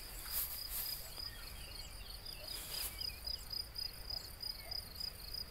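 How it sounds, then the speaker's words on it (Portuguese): Steady high-pitched cricket chirping fills the air in an olive grove in Portugal, a dense continuous trill from many insects with a faint low rumble beneath. "Muitos grilos cantando."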